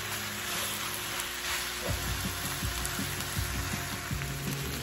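Pieces of oxtail (beef tail) fry in a pan, giving a steady, close hiss of sizzling fat with scattered soft pops and crackles, no voices.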